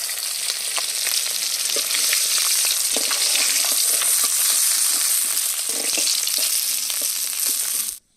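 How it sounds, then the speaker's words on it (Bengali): Small puti fish fry in hot oil with a loud, steady crackling sizzle. Faint stirring clinks sound now and then, and the sizzle cuts off sharply near the end. "মাছগুলো ভাজা হয়ে গেছে আবার তুলে নেব"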